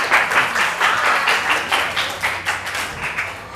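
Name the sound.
classroom applause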